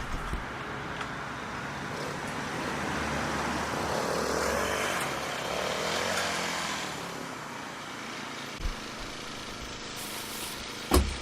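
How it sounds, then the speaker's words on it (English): A Mantis Classic 4-stroke tiller engine runs continuously nearby, a steady buzzing drone that swells slightly as it pulls through garden soil, with a few small knocks near the end. "I'm having to lean back quite a bit in order to counter the pull from the tiller"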